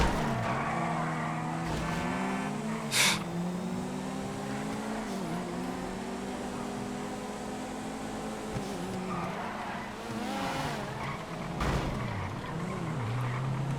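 A Canis Castigator in GTA FiveM drives steadily with a loud, droning engine that rises and falls as it shifts and revs. Brief tire squeals and sharp knocks break through the continuous motor noise.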